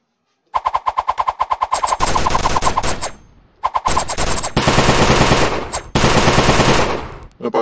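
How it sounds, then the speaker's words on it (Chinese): Gunfire in the VR game Money Bath VR: a rapid automatic burst of evenly spaced shots, then long continuous loud firing in two close, sustained stretches separated by a brief pause. "那把手枪吗？"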